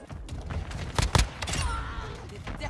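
A grenade blast in Call of Duty: Modern Warfare II on the Shipment map, a loud sharp burst in the middle of rapid gunfire and clattering game action, close and punchy, then settling back to busy background noise.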